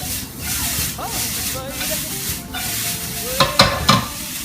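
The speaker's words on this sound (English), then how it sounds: "Now we're going to saute this off." Onions and garlic sauté in a pan with a steady background sizzle, scraped and stirred by a spatula, ending in a few sharper knocks near the end.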